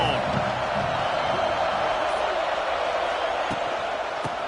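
A college football stadium crowd roars in a steady, dense wall of cheering, with a commentator talking over it.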